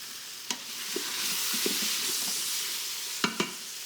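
Chopped vegetables stirred in a pot for veal osso buco, a soft steady sizzle broken by a few scraping knocks of the spoon against the pot bottom.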